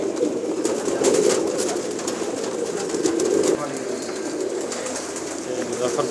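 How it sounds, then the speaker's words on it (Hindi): Pigeons of many breeds coo together in a pigeon shop coop, a thick, rolling murmur that holds steady throughout, with people talking softly beneath it. "हर नस्ल का कबूतर है जी।"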